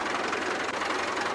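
A rental tractor engine in Farming Simulator 22 runs with a steady, dense drone that holds level throughout, close and fairly loud with no voices.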